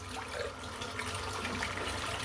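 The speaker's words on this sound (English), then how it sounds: "All I do is just pour hot water from the tap all over the soap" Hot tap water pours over a puck of shaving soap, a steady muffled rushing stream of running water close by, constant for the whole stretch with no speech.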